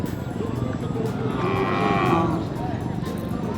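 A water buffalo (carabao) lows once, a drawn-out moo rising and fading over a second or so, heard amid the busy background chatter and noise of a livestock market.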